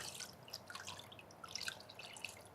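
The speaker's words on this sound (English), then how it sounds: "Sink them back in. And release any unwanted water." Water drips and trickles into a sink from hand-washed car polishing pads being squeezed out, quiet scattered drops at close range.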